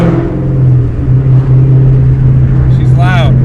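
A 750-horsepower Shelby GT500 Mustang engine holds a loud, steady high idle near 3,000 RPM, a deep droning roar up close with a brief rising rev near the end, and people talking over it.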